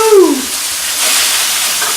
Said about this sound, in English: But you can hear the pan sizzling really well.